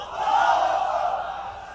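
A large crowd at an outdoor sermon gathering in Chattogram chants takbir in unison, one sustained, swelling group shout of voices that rises and slowly fades.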